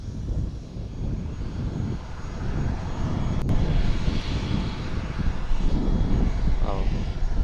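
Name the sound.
classic warbird aircraft flying past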